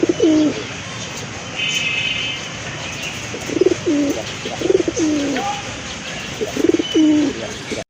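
Domestic pigeons offered for sale, including a sky-blue female, coo in a loose series of repeated low calls, several overlapping at times, with faint chirps and steady background hum.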